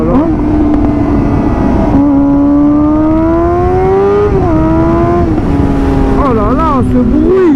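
A Suzuki GSX-R motorcycle engine revs loud and close without a baffle, its pitch climbing and dropping in long sweeps, then quick blips of the throttle, with someone talking over it.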